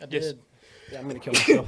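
A sharp sneeze bursts out near the end among people talking casually in a podcast conversation, loud and close against the surrounding chatter.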